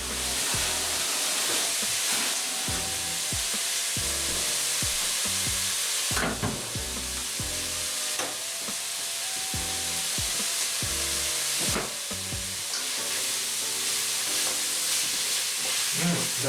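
Onions fry in a pan, sizzling continuously for the whole stretch while a utensil periodically stirs and scrapes them, loud and close without any voices.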